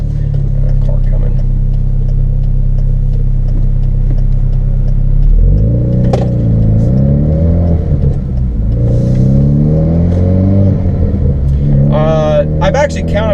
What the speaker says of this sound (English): Car coming.